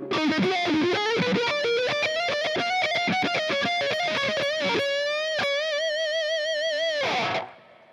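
A fast, distorted electric guitar run from a solo on the bridge pickup, rapid notes, sweeping and wah-filtered, then a long sustained bent note that rings before cutting off.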